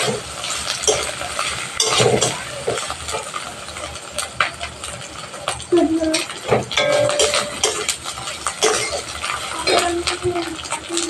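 Ghugni stirred and sautéed in a pan: continuous close scraping and clinking of a spoon against metal over a frying hiss, with brief tonal clinks, steady and fairly loud throughout.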